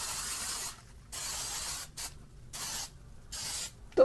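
A hormone spray bottle hisses in several close, crisp bursts, each lasting under a second, separated by short pauses of near silence.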